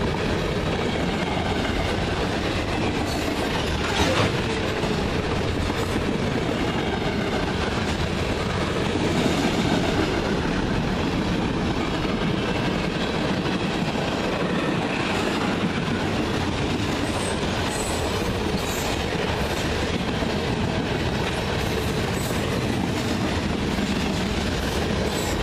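A CN freight train rolls steadily past in Ladysmith, a loud, continuous roar of railcars with clickety-clack from the wheels and occasional squeals, heard alone without talk.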